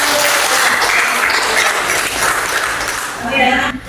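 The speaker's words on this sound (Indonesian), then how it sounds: "Oke, tepuk tangan untuk kita." A group of teachers in an academic supervision training session breaks into loud, sustained applause lasting about four seconds, with voices mixed in and a brief swell near the end.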